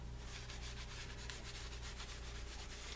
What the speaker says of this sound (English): And I'll just keep buffing it